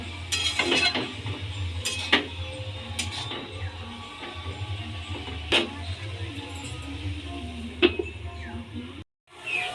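Greens of grass pea leaves in a pan are stirred with salt, turmeric and sugar, then covered with a lid, giving several sharp metallic clinks and scrapes over a steady low kitchen hum.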